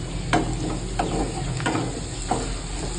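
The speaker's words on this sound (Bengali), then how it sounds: "আমি নাড়িয়ে নেব, গ্যাসের আঁচটাকে একটু বাড়িয়ে দেবো।" Rajma masala with coriander being stirred in a hot pan over a gas flame, a steady low sizzle with a few soft scraping strokes of the spoon spaced about a second apart, close and alone.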